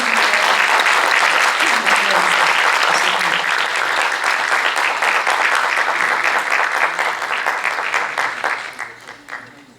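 A crowd at a concert plaque presentation applauds steadily, dense clapping that holds for several seconds then fades out toward the end, with a few voices mixed in.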